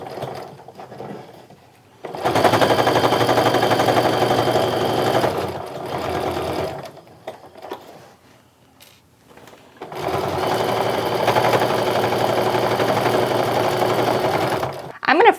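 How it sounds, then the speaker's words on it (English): A sewing machine stitches seams on a fabric wallet in two long bursts of fast, even mechanical chatter, split by a quiet pause with faint handling noises, close and loud. "I am going to reinforce my stitches at the front and end of those seams"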